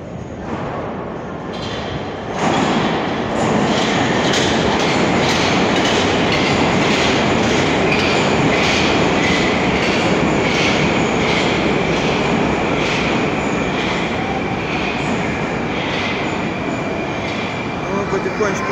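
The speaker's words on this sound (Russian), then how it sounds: "уже следом за ним подходит поезд" A Moscow metro train of the new generation rolls into Skhodnenskaya station loud and near, its rumble swelling then holding steady with rhythmic wheel clatter and faint squeal, voices talking underneath.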